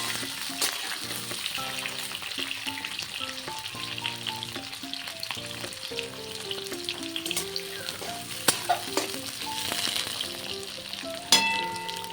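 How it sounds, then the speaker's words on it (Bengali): Pieces of pointed gourd (potol) fry in hot oil, a steady close sizzle with crackles and occasional sharp pops, while music plays underneath throughout. "এবার আমি চলো পটলটা ভেজে নিই"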